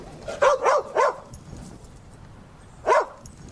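A dog on private rural property barks three times in quick succession, pauses, then gives one more bark, close and fairly loud over a quiet background.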